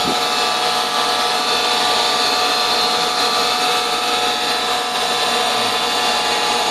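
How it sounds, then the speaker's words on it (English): A Hayward Navigator pool cleaner runs with the vacuum suction switched on, giving a steady, loud, broadband whirring and rushing drone that holds without a break, with no one speaking. "we're going to turn the vacuum back on"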